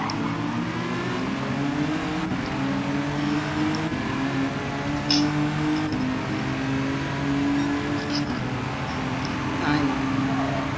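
Steady roar of racing car engines in Gran Turismo 7 revving and whining throughout, loud and continuous, with occasional higher pitched bursts layered over the drone.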